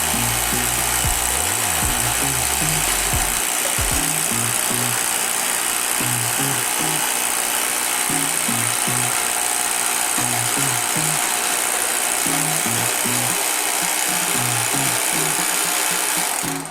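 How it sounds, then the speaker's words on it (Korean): A power drill bores holes into a building wall for 20mm anchors during structural reinforcement work, with a loud, continuous grinding whine running throughout and rhythmic low thumps pulsing underneath. "벽에 20mm 앙카가 들어갈 구멍을 내주므로 고정 작업을 진행해 줍니다."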